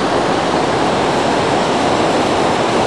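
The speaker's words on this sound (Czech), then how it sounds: "pod vodopádem" A waterfall and a roaring river in the Kyrgyzstan mountains, near a camp at about 3400 m altitude, make a loud, steady, close rushing roar with no break and no voices.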